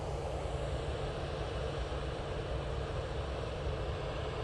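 Airliner taking off from a Manchester Airport runway: a steady, broad engine roar stays constant and fairly loud throughout, with no talk over it.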